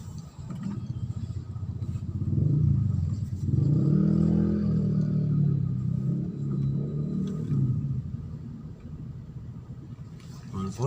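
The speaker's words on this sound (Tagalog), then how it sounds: "Traffic." Slow, congested road traffic in Bonifacio Global City: a steady low rumble of car engines near and far that swells and eases with a few revs, with a voice speaking over it.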